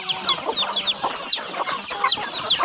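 Farm chickens clucking and squawking continuously at close range, several birds overlapping in busy, uneven bursts, with no speech.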